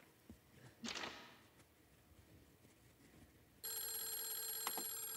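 A telephone rings in the video game Clock Tower, its steady electronic tone starting about two-thirds through and running to the end, preceded by a brief noisy burst and quiet room noise.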